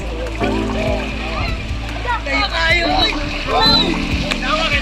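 Water splashes and churns in an outdoor swimming pool during a birthday gathering in Imelda, Zamboanga Sibugay, with children's and adults' voices talking and calling over the near, continuous splashing.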